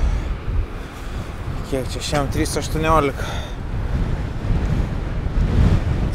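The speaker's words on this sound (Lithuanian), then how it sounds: "Vėjas rimtas, rimtas, nėra ką šnekėt." Strong wind buffets the microphone at an outdoor campsite near the sea, a loud continuous roar with gusty surges and surf-like rushing, while someone speaks briefly over it.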